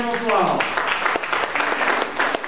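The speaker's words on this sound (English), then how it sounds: "Give him a round of applause." Audience at a kids' jam night gives a round of applause for the sound and lights technician, a dense spatter of claps under a speaking voice.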